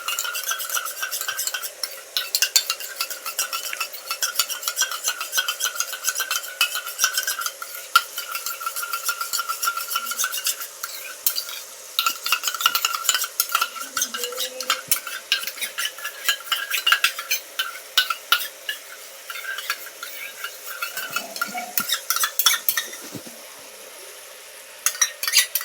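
A green banana kofta curry with yogurt is stirred in a pan, giving a long run of rhythmic clinks and scrapes of a spoon against metal over a faint simmer, with brief pauses.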